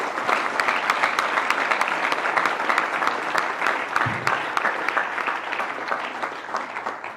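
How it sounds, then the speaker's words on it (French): Sustained applause from a meeting audience, many hands clapping close and loud in a steady, slightly uneven patter that carries through the whole stretch. "vous méritez un tonnerre d'applaudissements"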